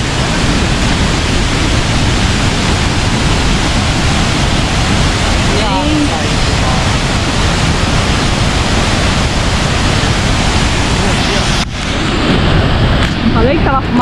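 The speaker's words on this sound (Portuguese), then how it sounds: "Falei que tava a fumaça da cachoeira." Salto Utiraiti waterfall in Campo Novo do Parecis roaring loudly and continuously, a broad close wash of falling water that dominates throughout, with brief faint voices near the end.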